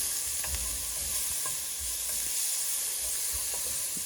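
Onion and vegetables for Cajun red beans and rice fry in a pan with a steady, close sizzle, broken by faint stirring scrapes.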